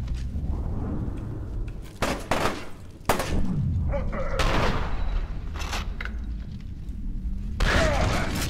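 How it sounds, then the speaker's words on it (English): Slow-motion pump-action shotgun blasts in F.E.A.R. come as repeated heavy booms and thuds over dense, continuous game noise, with sharp bursts near the start, middle and end. "Oh, slow-mo shotgun."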